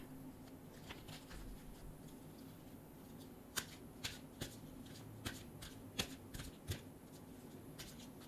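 A tarot card deck being shuffled close by, quiet riffling at first, then a run of crisp snapping card flicks and taps in the second half, no talking.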